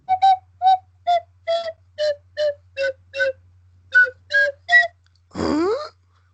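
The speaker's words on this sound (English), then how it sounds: "Slide whistle." A series of short whistled notes repeating in a bouncy rhythm, ending with a quick rising slide, close and clear.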